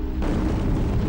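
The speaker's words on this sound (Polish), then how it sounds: "wulkany wybuchają," A volcano erupts, a dense, continuous roaring rumble heavy in the low end, loud and sustained without distinct blasts, with no voices over it.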